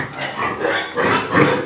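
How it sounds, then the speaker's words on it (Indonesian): A village pig grunts close by, a run of several loud, rough oinking grunts in quick succession, with no talk. "itu babi kampung"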